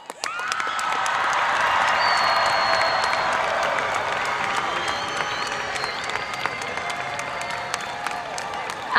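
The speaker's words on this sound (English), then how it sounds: "give our 2021 Lake Weir graduates one more round of applause" Sustained audience applause and cheering for 2021 Lake Weir High School graduates at an outdoor-style graduation ceremony, dense clapping from a large crowd with occasional whoops, steady and loud throughout.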